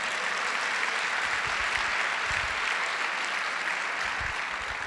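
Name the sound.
applause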